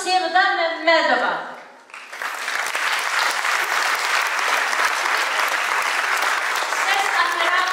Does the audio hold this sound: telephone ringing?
no